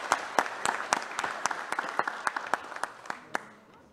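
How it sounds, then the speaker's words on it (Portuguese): Audience applause at a public security committee meeting, greeting a colonel: a steady patter of many hands with sharp individual claps that thins out toward the end, with no talking. "uma salva de palmas para o coronel Cássio também"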